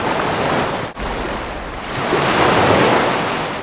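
A character swims through water in Gothic 2 while a steady, loud wash of waves and surf rolls on, with a brief dip in the sound near the start and a slight swell toward the end.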